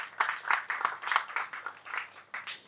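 Audience members clapping briefly, a few dozen uneven claps in short bursts, fairly faint and distant, with no talking over it.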